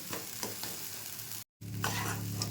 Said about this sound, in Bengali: অনবরত নাড়বো একটু এটা তলায় ধরে যাবে